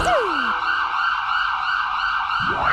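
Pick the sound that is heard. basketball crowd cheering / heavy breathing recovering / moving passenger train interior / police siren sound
police siren sound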